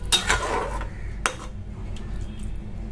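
A spoon scrapes and clinks against a pan while paneer masala is stirred, with a few sharp metallic knocks early on, then quieter faint scraping.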